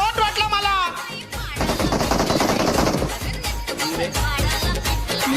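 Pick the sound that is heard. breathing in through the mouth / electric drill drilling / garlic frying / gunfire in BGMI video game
gunfire in BGMI video game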